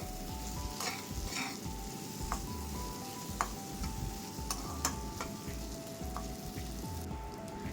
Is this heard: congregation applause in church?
no